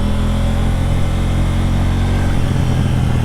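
A 2019 KTM 790 Duke motorcycle cruising on the highway, its engine droning steadily and loudly up close, mixed with constant rushing wind noise and no speech.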